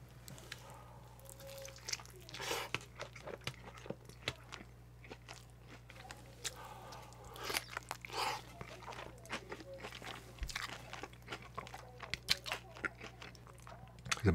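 Close, wet chewing and biting of a limited-edition Wendy's Korean BBQ cheeseburger, with soft crunches and squelches scattered over the clip and a low hum behind.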